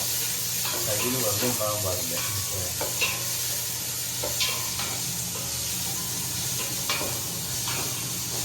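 Onions frying in a pan for biryani, giving a constant broadband sizzle with occasional scrapes of a spoon stirring them, while people talk nearby.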